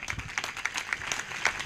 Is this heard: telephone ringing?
no